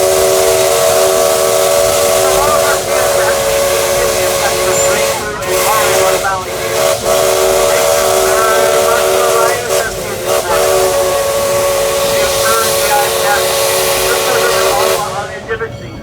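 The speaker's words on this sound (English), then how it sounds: "the Shay rounded the bend near the lake in the incredibly scenic section of the route with an epic whistle" A Shay steam locomotive sounds a long, loud whistle blast at a steam and power show, held for most of the time under steady hiss and rumble, with brief dips before it fades at the end.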